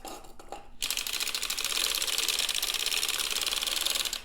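A hand-cranked sock knitting machine turns steadily, giving a dense, even run of rapid mechanical clicking and clattering that begins abruptly after a brief quiet moment and continues at a close, moderate level.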